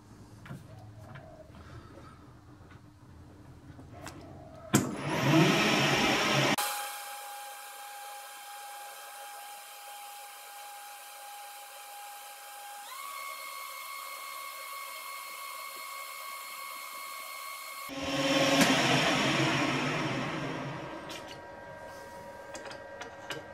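A powered lathe cuts a small chamfer on a metal part, heard as a steady whirring motor tone with a shift in pitch partway through, framed by louder bursts of cutting and handling noise at the start and end.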